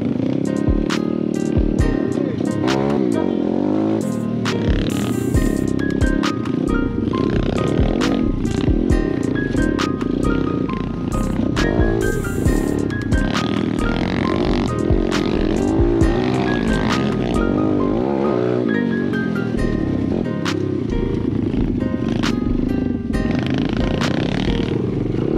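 Pit bike engine ridden around a dirt track, a steady loud drone that rises and falls as the rider circles, continuous throughout with occasional clatter.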